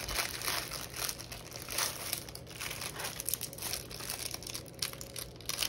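Plastic packaging of a diamond painting kit crinkles and crackles close by as it is opened, a continuous run of soft irregular rustling with no talking.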